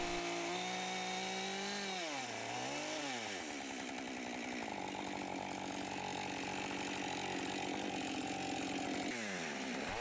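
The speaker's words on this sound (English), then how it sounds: "As the chainsaw cuts the wood, there's clean and tidy edges on the lock." A chainsaw cutting a diamond-saddle notch into a log, its engine droning steadily for ten seconds with pitch dips as the chain bites into the wood, loud and close.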